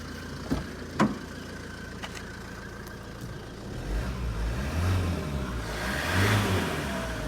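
An old car's engine running in an old shed after a jump start, a steady low idle rumble that swells slightly later on, with a couple of sharp knocks early.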